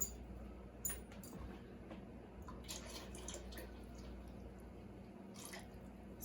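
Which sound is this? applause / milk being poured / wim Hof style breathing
milk being poured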